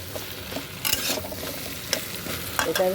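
Papaya and potato chunks tossed into a hot pan and stirred, with a steady oil sizzle broken by brisk scraping stirs and a few louder clattering bursts.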